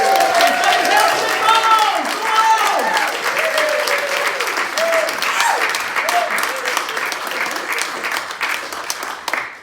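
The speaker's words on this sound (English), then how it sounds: "So please, huge round of applause and cheering!" Crowd at the Edinburgh, Lothians and Borders May Day Rally bursts into loud, sustained applause with cheers and shouts, dense clapping filling the whole stretch and slowly easing.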